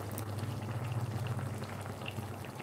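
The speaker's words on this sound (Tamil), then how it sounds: "நல்லா கொதிச்சிச்சு பாருங்க" Broccoli gravy boiling in a pot on a home stove, a steady close bubbling and simmering with soft pops, heard alone without talk.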